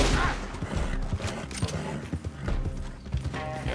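Horse hooves clatter in Red Dead Online during a chase, a quick galloping rhythm, with gunfire and mechanical game sounds mixed in.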